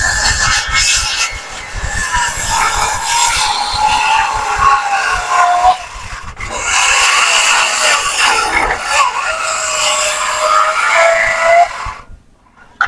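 A chainsaw cuts wood for roof carpentry, its loud engine whine rising and falling over the rough rasp of the chain. The saw briefly eases off midway, then runs again before cutting out near the end.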